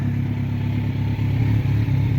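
A Kawasaki motorcycle engine drones steadily while riding, a close, loud continuous rumble with slight fluctuations and no talk.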